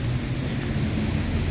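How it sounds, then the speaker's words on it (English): Rain falls outside at night in Halifax, a dense, steady rush of drops and low rumbling wind noise, close and continuous with no voices. "It's raining."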